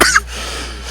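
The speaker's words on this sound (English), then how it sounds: "I didn't mean to cough in your guys' ears" A single short cough bursts out close to the microphone at the very start, followed by a quiet room with a faint steady hum.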